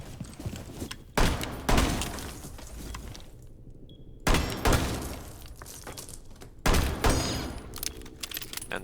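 Revolver shots in Rainbow Six Siege blasting through a ceiling: three loud, sharp reports spaced a few seconds apart, each followed by a crumbling, debris-filled tail over a steady background rumble.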